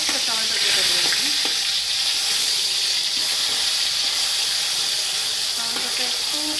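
Tomato sizzling in hot oil in a pan before marinated chicken is added, with a steady, loud frying hiss throughout and faint stirring clinks now and then.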